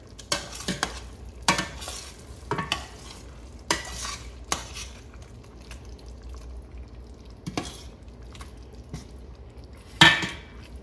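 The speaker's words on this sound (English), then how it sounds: "You want to just lightly stir that in there without breaking the fish apart." Tinned jack mackerel fish curry, Sri Lankan style, is lightly stirred in a pan with a series of soft, irregular spoon scrapes and taps, a faint sizzle between them, and a sharper clink near the end.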